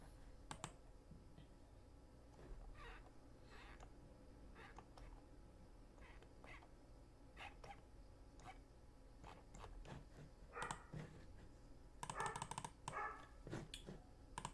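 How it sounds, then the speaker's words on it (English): A dog barks indoors in repeated sharp bursts scattered through the stretch, with a steady low hum in the background and a louder cluster of barks near the end; no one speaks. "Barking like crazy."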